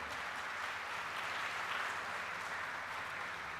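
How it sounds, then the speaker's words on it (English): At a college graduation ceremony, a large audience gives sustained applause for the parents and guardians, a dense even wash of clapping heard somewhat at a distance. "let us give them a big round of applause for the sacrifices they have done for you"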